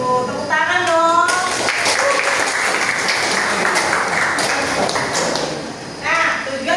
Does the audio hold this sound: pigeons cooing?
no